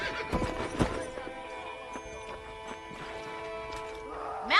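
A horse in the Red Dead Redemption video game whinnies loudly near the start, with a second neigh at the end and light hoof clip-clop in between, over a steady game soundtrack.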